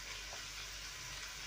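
Seasoning frying in a pot for Jamaican steamed spinach gives a steady, soft sizzle with a faint hiss throughout, fairly quiet and without talk.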